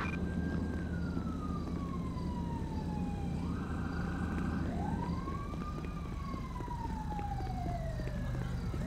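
An ambulance siren in GTA V with the LSPDFR mod wails in long, steady rising and falling sweeps. A brief faster yelp section breaks in midway, and the whole thing sits loud over a constant low traffic rumble with no talking.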